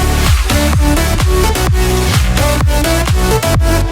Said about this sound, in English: What you just heard there is actually the final version of the drop